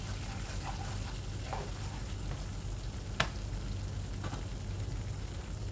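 Garam masala stirred into a frying soya mixture in a pan, a steady close sizzle throughout with occasional spoon scrapes and one sharp clack, no voices.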